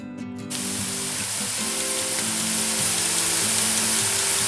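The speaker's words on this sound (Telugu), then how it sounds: "ఇప్పుడు ఇందులో మనం ముందుగానే ఉడికించుకున్న బిర్యానీ రైస్ యాడ్ చేసుకుందాం." Cooked biryani rice hits a hot pan for veg fried rice, setting off a loud, steady frying sizzle with hissing and faint stirring scrapes after a brief quiet start, close up and continuing without talk.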